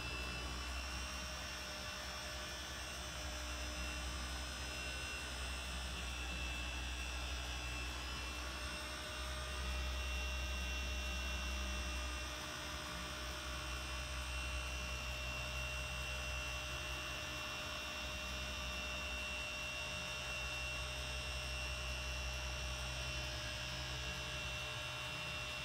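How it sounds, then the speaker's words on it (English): A car paint polisher runs on Land Rover paintwork, giving a continuous whirring drone with a low hum, steady and fairly faint throughout, with no talking. "We'll let the polisher come to a complete stop before lifting it off the surface."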